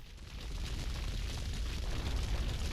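Explosions and fire in GTA 3 Definitive rumble as a low, steady, muffled roar, faint and continuous without distinct individual blasts.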